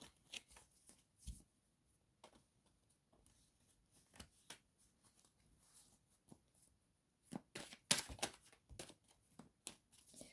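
Oracle cards being shuffled by hand, soft riffling and flicking bursts repeating irregularly with quiet gaps, close and faint, growing busier toward the end.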